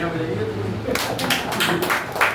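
A small audience at a monthly poetry gathering starts clapping after a song-poem is recited. Several scattered hand claps begin partway through, close and fairly loud, following a moment of quieter room sound.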